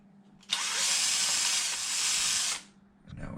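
A power drill spins out a screw from the bottom plate of a Traxxas X-Maxx RC truck, a loud steady whine lasting about two seconds before cutting off, then faint handling noise.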